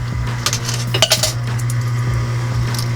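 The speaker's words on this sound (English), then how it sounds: "A lot of quarters are falling in." Quarters tumble and clatter inside a coin pusher arcade machine, with a dense run of bright metallic clinks and chinks over a steady low mechanical hum, close and fairly loud.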